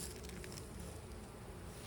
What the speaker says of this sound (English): Look at these bees.